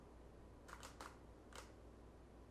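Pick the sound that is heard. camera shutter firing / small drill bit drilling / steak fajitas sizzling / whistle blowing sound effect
camera shutter firing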